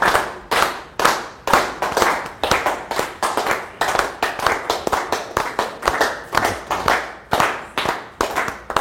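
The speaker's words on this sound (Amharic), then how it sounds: "ሞቅ ባለ ጭብጨባ ደራሲውን ወደዚህ ጋብዙልኝ" An audience claps to welcome an author on stage at a book event: a rhythmic run of sharp hand claps, fairly close and loud, repeating steadily for about nine seconds with no talking.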